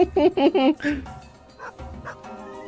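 Cartoonish dog barking from a chase scene in the video game Copycat, a quick run of loud yapping barks followed by softer whimpering yips, with game sounds and a person talking and laughing over it.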